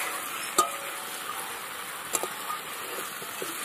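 Chicken with garlic and spices being stir-fried in oil for a Bengali chicken curry with potatoes, a steady faint sizzle broken by a few sharp scrapes and clinks of the spoon against the pan, no voices.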